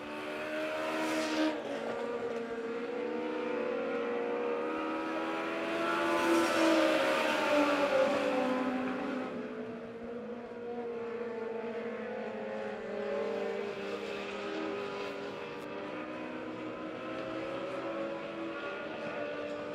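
Legends race cars circling Monett Motor Speedway during a heat race, a continuous loud engine roar with rising and falling revs as the pack passes, swelling near the middle and holding steady throughout.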